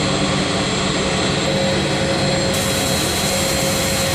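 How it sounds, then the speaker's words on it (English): Pressurized air roars steadily into a deep Johkasou waste-treatment tank while an agitator keeps mixing, a loud continuous blowing drone with a faint steady hum. "This is pressurized air. Is being blown into the tank, and this is the agitator that is mixing, continually mixing the mixture."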